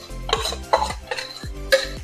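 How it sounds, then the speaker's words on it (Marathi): Dal poured into a pan with onions and reduced tamarind water, then stirred, giving four rhythmic scraping strokes with soft clinks of a utensil against the metal pan, close and clear. "आता मी हे वरण टाकते आहे."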